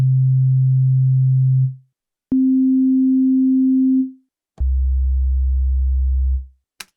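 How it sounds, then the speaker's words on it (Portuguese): Synthesizer oscillator playing three separate sustained pure tones one after another, a mid-low note, a slightly higher note, then a deep low note, each held for about two seconds with short gaps of silence between. "eu toquei 3 notas aqui"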